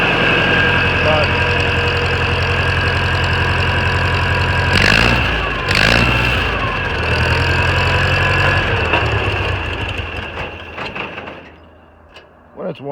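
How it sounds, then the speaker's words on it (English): An old tractor engine idles steadily after a cold start, a loud low rhythmic chug with a few brief louder bursts midway, then the sound falls away and some faint handling noises follow near the end. "when it's warm, it idles, but yeah, fired up pretty good"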